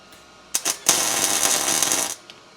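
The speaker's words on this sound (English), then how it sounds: "So I'm just gonna tack the 4 corners" Tack welding on a hotrod part: a couple of sharp crackling bursts, then a sustained bright buzzing arc lasting over a second before cutting off, close and loud.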